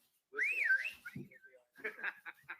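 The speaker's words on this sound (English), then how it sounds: "Can you whistle?" A short whistled tune rising and falling in pitch, followed by brief talking, heard close and fairly quiet.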